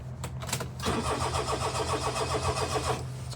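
A carbureted Mira Michito kei car engine cranks briefly, then catches and settles into a steady, close idle with a rhythmic low chug.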